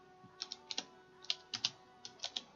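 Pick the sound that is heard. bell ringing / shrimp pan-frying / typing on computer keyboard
typing on computer keyboard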